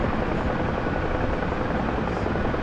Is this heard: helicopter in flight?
yes